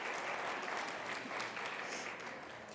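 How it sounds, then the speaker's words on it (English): An audience at a healthcare conference in the Cayman Islands claps in a dense, steady burst of applause that holds throughout with no talk over it. "So big round of applause"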